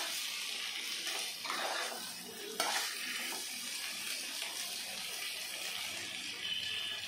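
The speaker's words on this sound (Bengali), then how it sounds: "তা দিয়ে আমি ভালো করে নেড়ে চেড়ে নেব।" Boiled elephant foot yam and potato are turned over in a pan, a soft continuous scraping and sizzle with brief louder stirring strokes early on, no voices.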